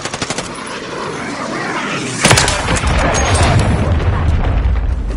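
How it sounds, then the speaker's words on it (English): Cruise missile strike in a military video game, a sudden deep explosive blast that cuts in after light gunfire and rolls on as a loud, sustained rumbling roar. "Friendly cruise missile deployed."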